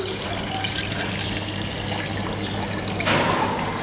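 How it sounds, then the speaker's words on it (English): Water from soaked beans dumped out of a sprouting jar, a steady close pouring and splashing that swells louder near the end. "And then what we do is actually dump the water out."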